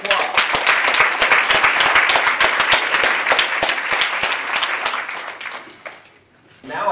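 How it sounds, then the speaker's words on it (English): Round of applause from a gathered audience during a surgeon general's visit in West Pasco, loud crisp clapping sustained for several seconds before tapering off near the end. "Round of applause."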